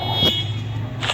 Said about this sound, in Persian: ببخشید واسه صدای بوغ ماشین بگران.